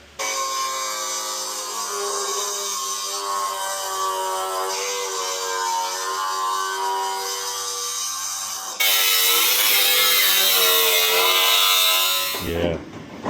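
A power tool trims the sheet-metal roof tray of a 1968 custom VW Bug. It gives a loud, steady, close whine that jumps in pitch and intensity partway through, then cuts off abruptly near the end.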